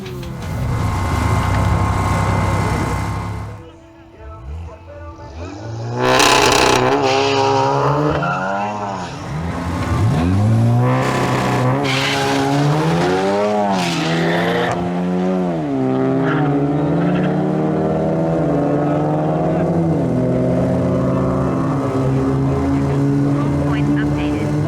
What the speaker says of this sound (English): we have a duel between two Volkswagen Golf GTIs, driven by Nieder Flores and David Jimenez.